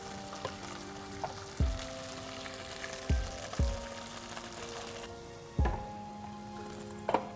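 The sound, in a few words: tomatoes added to a hot pan, sizzling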